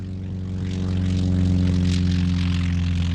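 A propeller aircraft drones steadily at Jersey Airport during an airshow, its engine hum strong and even and swelling slightly louder as it nears.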